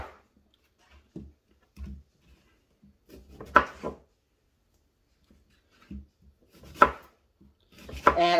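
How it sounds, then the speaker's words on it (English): A knife dicing a Vidalia onion on a cutting board, heard as sparse, irregular close chops and taps separated by quiet gaps, with a few louder board knocks near the end. "I'm just going to start dicing this up"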